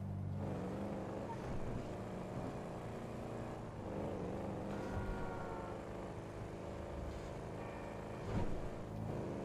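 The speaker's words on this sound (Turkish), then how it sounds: "Bu arabanın sesi çok güzel değil mi ya?" Car engine driving in GTA Online, a steady mid-loud motor drone with shifting harmonic tones and a brief surge near the end, heard alone without talk.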